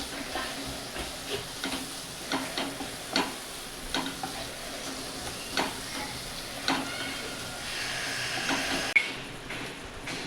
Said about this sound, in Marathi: मसाला चांगला परतून घ्यायचा